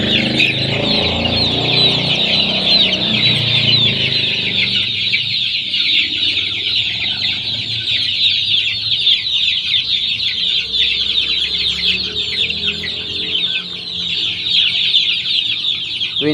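A flock of 21-day-old stag chicks clucks and peeps continuously, a dense chorus of high chirps close by and loud throughout, with no talking.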